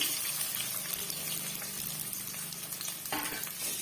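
Mustard seeds splutter in hot oil in a pan as a spiced bitter gourd dish gets started: a dense, steady crackling sizzle that runs the whole time, with a sharper burst of pops near the end.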